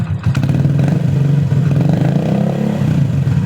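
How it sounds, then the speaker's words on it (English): A 100cc motorcycle with a loud, bassy SC Project exhaust runs close by, giving a throaty, pulsing engine note with rapid firing beats and brief rises in revs. "SC project is a really good exhaust. It's very loud. It's very bassy."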